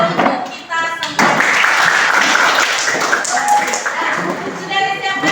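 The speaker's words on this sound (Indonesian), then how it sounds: "Tepuk tangan untuk kita semua." A classroom group claps together for a few seconds, fairly close and loud, with voices heard before and after the clapping.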